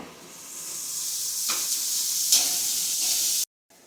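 Vegetables sizzle in oil in a pan with a steady bright frying hiss, broken by a couple of brief stirring scrapes, before the sound cuts out abruptly.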